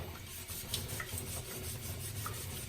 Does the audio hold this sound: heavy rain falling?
no